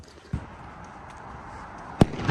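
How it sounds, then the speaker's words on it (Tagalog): Diwali fireworks going off at a distance during a celebration in Canada, two sharp separate bangs, the first soft and the second louder, over a low steady background hum. "Wow, ayan, fireworks."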